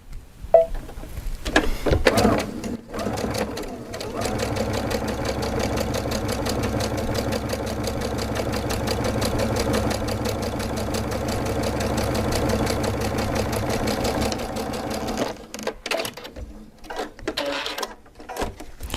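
A sewing machine with a hemmer foot stitches a narrow hem in one steady, loud mechanical whir lasting about twelve seconds, with a few clicks and handling noises before and after.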